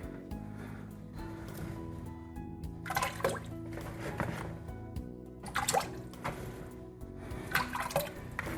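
Potato pieces dropped by hand into a pot of water for Zuppa Toscana soup, three bursts of splashing plops spaced a few seconds apart over a low steady background hum.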